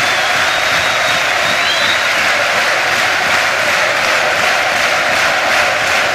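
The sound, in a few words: stadium crowd applause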